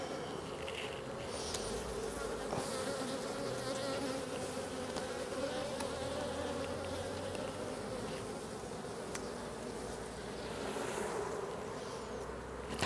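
Honeybees buzz in a dense, continuous drone around beehives during winter preparation outdoors, steady and fairly close, with no talking.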